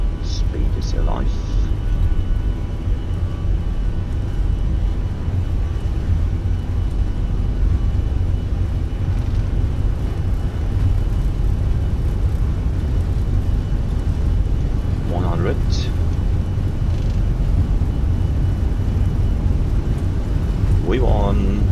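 Fenix A320 jet engines spooling at takeoff thrust on a high-elevation departure from Jauja, Peru, heard as a steady, loud broadband roar that holds for the whole span, with a few faint short voice fragments over it.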